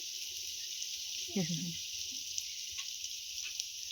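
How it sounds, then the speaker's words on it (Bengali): Chopped onions frying in a pot give off a steady, moderately loud sizzle throughout, with a brief low clatter near the middle. "পেঁয়াজ ভাজা চলছে"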